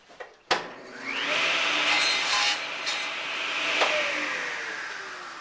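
A table saw cuts a taper along a wooden hammer handle: a sharp start-up crack, then a steady, loud whining buzz of the blade in the wood. The pitch shifts slightly as the cut goes on, and no one speaks.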